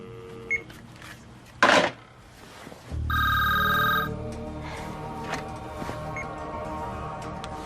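A telephone in a home at night gives one short electronic bell-like ring of about a second, which stands out clearly after some faint clicks and a sharp knock. A low hum follows beneath quiet room noise.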